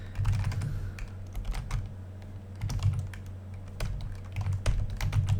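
Rapid typing on a computer keyboard, with irregular clusters of clicking keystrokes and a few heavier key thumps, close and steady.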